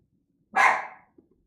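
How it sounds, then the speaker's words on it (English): A dog gives one sharp, loud bark at close range, with a short fading tail. The rest is near silence. "Dog suddenly has something to bark at."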